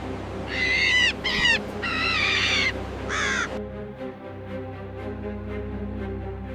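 A crow gives a run of four loud, harsh caws in quick succession near the start, followed by quieter outdoor ambience with faint low background rumble and no talk.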